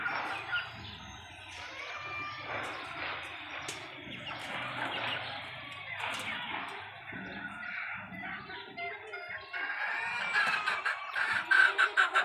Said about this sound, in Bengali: তিনটা মোরগ হয়েছে আর বাকিগুলো মুরগি